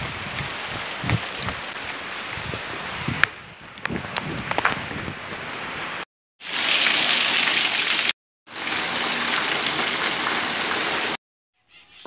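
Steady rain hissing on a surface, broken by brief silent gaps, with scattered drips and light knocks early on.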